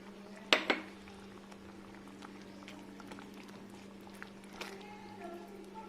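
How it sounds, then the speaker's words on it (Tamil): Malai paneer kurma gravy with yogurt simmers and bubbles in a pan with a soft, steady bubbling, opening with a couple of sharp metallic clinks of utensils against the pan. "இது வந்து இன்னும் 2 நிமிஷம் நல்லா கொதிக்கட்டும்."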